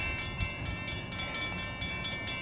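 A CSX freight train with Chessie box cars rolls through a crossing, its wheels beating out a steady rhythmic clatter over continuous rumbling rail noise, fairly close and with no talk.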